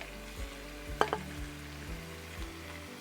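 Ground pork and beef frying in a pan for a Bolognese sauce, a steady low sizzle with a couple of sharp utensil clinks near the middle and soft stirring knocks throughout.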